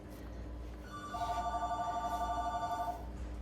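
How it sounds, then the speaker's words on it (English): Household telephone ringing, a steady warbling electronic trill that pulses rapidly for about two seconds, fairly near and clear over a quiet room background. "the phone would ring."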